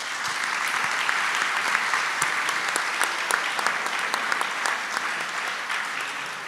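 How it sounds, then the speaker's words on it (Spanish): Audience applause for panelists at an academic conference panel: sustained, even clapping from a sizable crowd, loud and continuous across the whole stretch with no speech over it. "Agradecemos mucho la participación de los panelistas, muchísimas gracias, les damos un aplauso."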